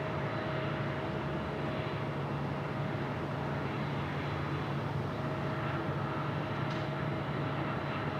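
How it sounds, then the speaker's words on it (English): Sun Country Boeing 737-800 airliner arriving at Phoenix Sky Harbor airport, a steady distant jet roar with a faint constant whine, heard alone without talk. "Next arrival looks like it will be Sun Country 737-800 from our friends in Minneapolis."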